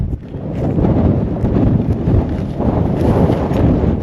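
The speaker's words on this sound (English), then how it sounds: "it is getting really windy and really cold" Strong wind roars across a mountain peak near Los Angeles, battering the microphone in a loud, continuous rumbling buffet that surges and eases but never stops, with no voices.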